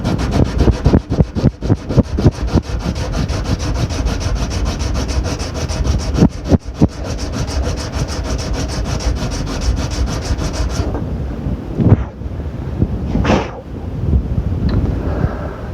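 Wooden arrow rest rubbed back and forth on sandpaper glued to a flat surface, a fast rhythmic scratching of close, steady strokes that stops near the end, leaving a few soft handling knocks.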